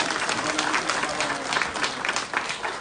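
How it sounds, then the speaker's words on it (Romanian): A festival audience at the Festivalul Schinducului in Izvorul Muntelui applauds Traian Boca with dense, steady, loud applause that fills the whole moment, and voices murmur underneath. "Aplauze pentru domnul Traian Boca."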